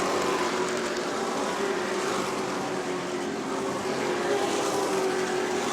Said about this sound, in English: A couple of Chad Pierce cars side by side for second.